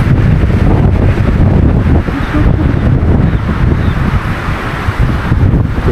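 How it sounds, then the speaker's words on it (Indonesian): Strong, relentless storm wind roars and buffets the microphone on the slopes of Mount Wilis near Madiun, loud and continuous with gusting surges and no pauses. "badai-badai angin kenceng. Dari tadi loh ini nggak berhenti."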